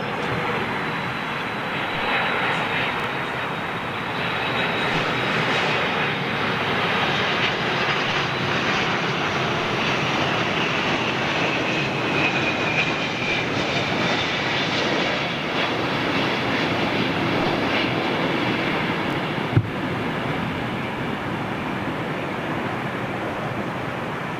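A Delta jet airliner at London Heathrow roars steadily through a long landing rollout, a loud broad engine rush that holds for over twenty seconds, with a single sharp knock near the end.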